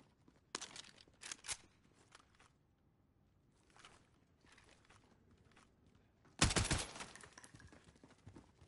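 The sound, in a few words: assault rifle gunfire in a video game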